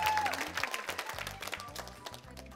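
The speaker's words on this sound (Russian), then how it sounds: "Побольше, побольше аплодисментов." Audience applause at a game show swells under loud rhythmic music with a thumping beat, the clapping mixed in at moderate level and fading gradually across the stretch.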